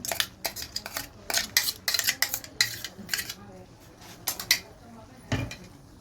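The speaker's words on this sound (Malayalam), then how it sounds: "നമുക്കൊന്ന് ഇളക്കിടാം" A utensil scrapes and clinks against a metal pot in irregular strokes, stirring thick avial with ground coconut, garlic, yogurt and shallots, with a faint voice in the background.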